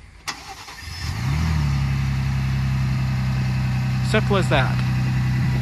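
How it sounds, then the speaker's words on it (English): A 2023 Ford Bronco Raptor fires up by remote start and settles into a steady, close, low idle, with a brief voice speaking over the running engine near the end. "So the Ford Bronco Raptor does come equipped with remote start over here."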